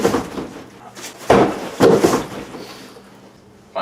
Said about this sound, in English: I've tried knocking over round kicks.